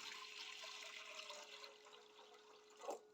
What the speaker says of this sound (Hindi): साथ ही इसमें डाल दूंगी पानी।